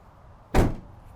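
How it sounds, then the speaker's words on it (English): A door on an all-wheel-drive Ford Transit camper van shuts once with a single solid, close thud and a short rattle that fades quickly, heard alone against a quiet background. "we're gonna shut the door"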